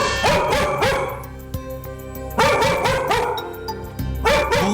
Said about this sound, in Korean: 보호자를 등지고 아까보다 더 과격하게 짖는 녀석